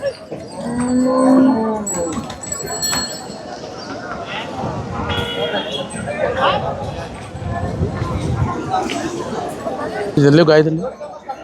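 HF and Jersey cows moo repeatedly, loud and close, with people chattering in the background across a busy dairy farm near Shadnagar.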